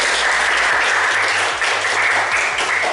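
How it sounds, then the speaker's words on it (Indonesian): Classroom applause from students during a sociology lesson, a steady dense clatter of clapping lasting about three seconds, loud and close with no talk over it. "Aplaus untuk kita semua."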